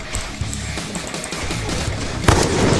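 Gunfire in the Free Fire mobile game, a loud stream of rapid shots with a heavier burst near the end. No speech.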